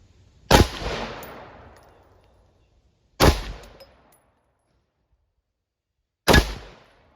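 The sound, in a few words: 5.56 rifle shots fired at armor plate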